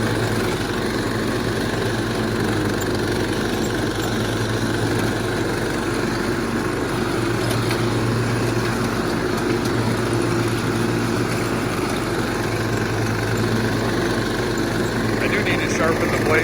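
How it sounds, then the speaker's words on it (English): Lawn mower engine with dull blades running steadily nearby, a constant loud droning hum that holds level the whole time while a person talks over it. "Sharpen the blades on the mower because they're pretty dull."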